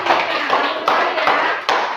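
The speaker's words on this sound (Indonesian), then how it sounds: "Beri tepuk tangan pada temannya yang sudah melakukan" Schoolchildren in a classroom clapping for classmates, a short burst of brisk, fairly loud hand claps with a rhythmic pulse that comes and goes across two seconds.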